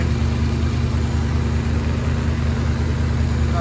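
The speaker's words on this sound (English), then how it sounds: "Got a really bad exhaust leak right here." A car engine idles steadily up close with a bad exhaust leak, giving a constant low rumble with a slight ticking puff, unbroken and loud throughout.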